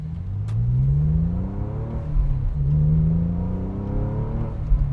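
A Porsche 996 Carrera engine pulling hard through the gears, rising engine note, a shift, then climbing again, loud and steady from inside or near the car.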